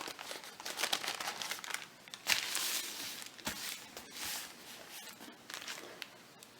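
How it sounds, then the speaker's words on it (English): A paper coffee filter crinkles and rustles softly as it is folded in half, giving a series of light, close crumpling sounds in a quiet room with no talk. "I'm going to take my coffee filter, and all I'm doing is folding it in half"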